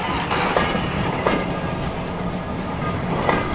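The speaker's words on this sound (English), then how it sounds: "That's what I call a steam train ride." Steam train running along a heritage railway line in the Forest of Dean, a steady, loud rolling rumble with rhythmic wheel clatter and a few sharper knocks, heard close by with no talking.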